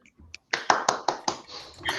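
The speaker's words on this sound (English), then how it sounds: "I think this deserves a round of applause" A small burst of hand clapping from a few people, several sharp claps in quick succession, close and brief.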